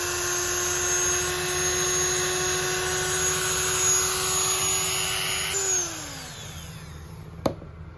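Dremel rotary tool cutting through a Starlink satellite dish in the Australian outback, a steady high whine that holds for several seconds, then drops in pitch as it spins down, ending with a sharp click.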